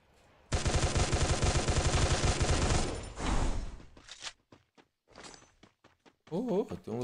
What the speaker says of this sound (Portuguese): Para de atirar em mim, cara.